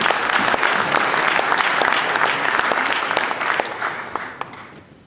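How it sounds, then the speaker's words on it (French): An audience at a book prize ceremony applauds an author. Dense, loud clapping from a crowd holds steady, then fades over the last second. "On peut applaudir l'auteur."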